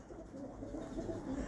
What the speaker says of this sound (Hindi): ये कबूतर मेरा खुद का तैयार किया हुआ है।